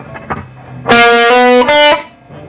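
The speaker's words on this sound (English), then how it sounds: "Here's with a little bit of distortion." Distorted electric guitar strums ring out loud and buzzy, two sustained chords following a few quiet muted picks.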